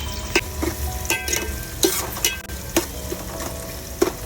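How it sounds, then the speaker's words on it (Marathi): Sliced onions sauté with whole spices in hot oil in a pan, a steady sizzle broken by sharp scraping strokes of a stirring spoon at irregular intervals. "त्याच्यामध्ये आपण लांबडा चिरलेला कांदा घालूया आणि तो कांदा एकदम लाल होईपर्यंत आता तो परतून घेऊया."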